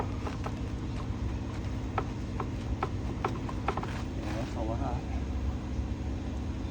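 Worn gears with too much lash clunk inside a metal mechanism, a continuous loud mechanical drone with irregular knocking clunks and rattles throughout.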